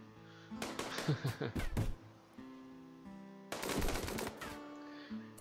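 Rapid gunfire from the RimWorld video game, one dense burst of repeated shots early on, then a pause and a second heavy burst, loud and up close, with a faint hum beneath.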